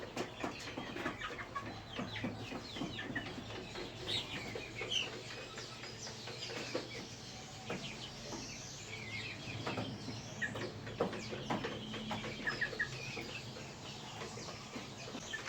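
A flock of six-week-old Kienyeji chicks clucking and cheeping continuously in a poultry house, many overlapping calls, with scattered clatter and background hum.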